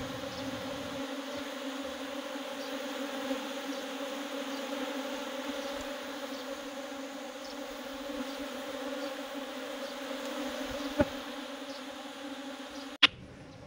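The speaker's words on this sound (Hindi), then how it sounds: "मधुमक्खियाँ, इतना फ्लो से बाहर से आ रही है" Honeybees swarming into a hive box produce a steady, dense buzzing hum that holds level throughout, with a couple of sharp clicks near the end.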